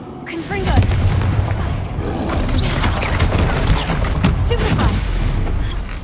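Confringo explosive spell cast in the video game Hogwarts Legacy, heavy booms and crashing blasts over a dense rumbling roar, loud and close, with a voice talking over it.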